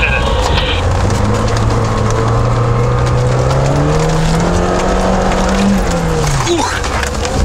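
Car on mud-terrain tires climbing a snowy hill in winter, engine revving with a rising and falling drone and tire noise, loud and close throughout.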